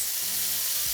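Carne asada meat sizzling in hot oil in a pan, a steady, fairly quiet frying hiss that holds evenly for the whole second with no talk over it.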